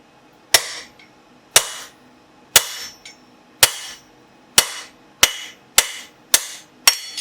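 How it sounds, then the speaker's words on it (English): Hot steel struck by a blacksmith's hammer while forging a set of double calipers: about nine sharp, ringing blows at a steady, unhurried pace, close and loud with short metallic decays, and no talking. "you're not hammering right on the joint, you're hammering on the off cut"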